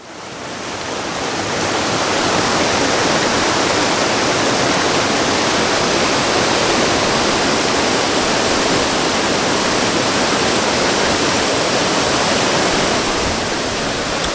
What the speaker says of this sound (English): because of all the rain, it's just flowing over at a tremendous rate